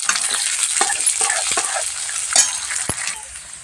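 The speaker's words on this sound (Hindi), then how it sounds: "अब भून लेते हैं प्याज को।" Onions and chillies fry in hot oil in a wok, a steady close sizzle broken by repeated scraping strokes of a stirring spoon, with no talking.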